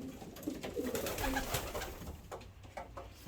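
Pigeons cooing softly inside a loft with a trapping section, low repeated coos against a faint background rustle, no talking.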